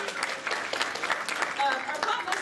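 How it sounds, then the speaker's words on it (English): Convention crowd at a tea dueling event applauds, with scattered, moderately loud clapping mixed with voices and cheers. "If you could give her a round of applause."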